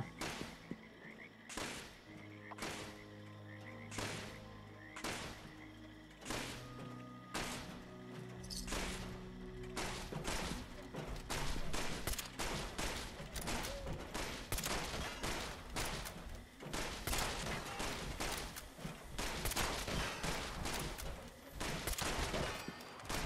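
Gunfire in Fallout 76 during a solo legendary hunt: dense bursts of rapid shots building from scattered cracks into sustained, loud volleys over a steady game backdrop of tones and ambience.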